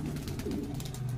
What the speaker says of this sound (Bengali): এই জনিতে একটি মাদি পায়রা দেখাচ্ছে, এটা ফুলশিরা মাদি।